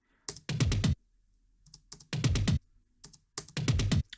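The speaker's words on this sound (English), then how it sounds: "That's the sound of the tom fill." Tom fill in an electronic music track, bursts of rapid drum hits in three separate clusters with gaps between them, punchy and close, no voices.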